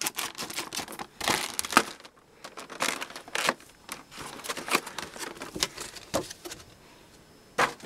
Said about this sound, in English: Let's get our scissors and cut it open.